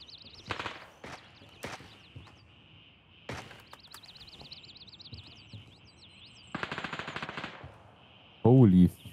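Gunfire in the game Gray Zone Warfare: several bursts of automatic shots, moderately loud against a steady background hum, with a sharp loud burst at the very end.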